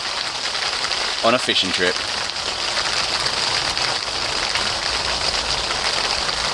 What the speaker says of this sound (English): it's been going on the last 10 minutes, hailstones